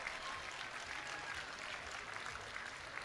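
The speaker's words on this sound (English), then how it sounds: "It deserves a significant round of applause." Steady applause from a crowd at a show's formal presentation, dense continuous clapping at a moderate distance, with no talk over it.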